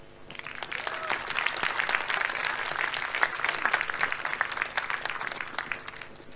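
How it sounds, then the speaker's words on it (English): Applause from the audience at a DevFest developer conference keynote, steady crowd clapping that builds and holds throughout, dense and moderately loud with no talk over it. "So please give a warm round of applause to all those companies who made this event possible."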